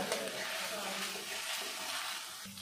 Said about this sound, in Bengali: পরিমাণ মতো হলুদ গুঁড়ো দিয়ে আমি ভালো করে মশলাটা কষিয়ে নেব।